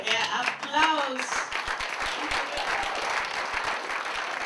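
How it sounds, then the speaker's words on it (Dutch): An audience at a stage performance and forum breaks into applause after a short spoken line, then keeps up steady, moderately loud clapping from many hands with some individual claps standing out. "Ja, applaus."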